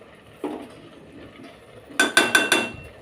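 Metal spoon clinks sharply four times against a pan in a quick run as spoonfuls of sugar are tipped into reducing milk for carrot halwa, after a softer knock and quiet kitchen background.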